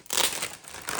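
A short, close crinkling rip of packaging tape being pulled from a parcel of comics, a single scratchy burst about a second long with no speech.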